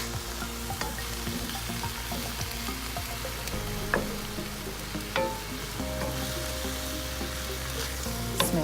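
Broccoli with onion, garlic and seasonings sizzles steadily in a pan, with occasional scrapes and clicks of a utensil as it is stirred close by.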